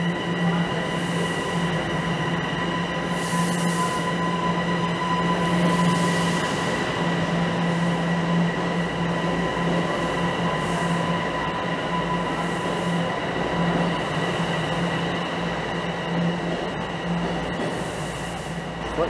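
Toronto subway train running late at night with a steady loud rumble, clear tonal hum and faint wheel squeal throughout, heard from inside the car, with no talking.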